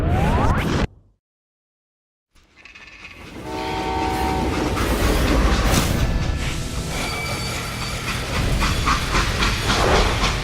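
Steam train in the western shooter Call of Juarez: Gunslinger, a loud continuous rumble of rolling railcars with hissing steam and rattling, after a brief cut to near silence near the start.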